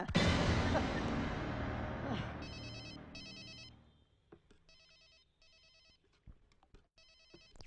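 In a Tamil film scene, an old-style telephone bell rings in several short, evenly spaced bursts, following a loud rumbling noise that fades away.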